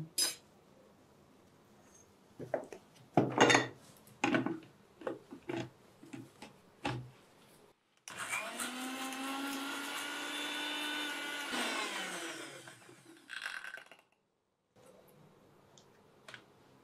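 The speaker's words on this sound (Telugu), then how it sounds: "కలబంద మిక్సీ చేద్దాము" A mixer grinder blends aloe vera with a little water into a juice. A few sharp taps and clicks come first, then the motor whirs loudly and steadily for several seconds before stopping abruptly.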